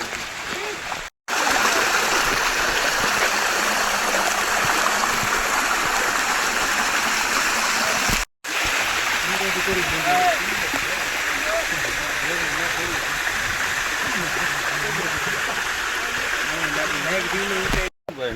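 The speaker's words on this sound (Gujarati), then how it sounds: "ફૂલ પાણી હો વરસાદનું" Steady rushing of a monsoon rainwater stream flowing close by on Girnar, Junagadh, continuous and loud, broken only by two brief cuts to silence.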